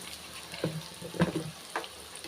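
Wood apple sautéing in oil for a pickle, faint and quiet, with three soft stirring scrapes over a low sizzle and no speech.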